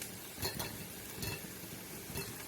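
Cabbage and green onions fry in a pan for colcannon, giving a steady soft sizzle with a few scrapes and clinks of stirring, heard close and faint with no voices.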